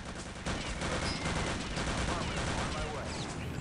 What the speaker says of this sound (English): Panzer shot here.